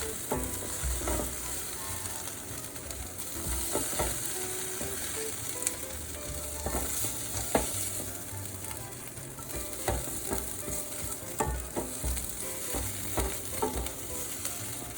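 Beef stir-frying in a hot pan for a ramen stir fry sizzles loudly and continuously, with scrapes and clatters of stirring scattered throughout and no talk.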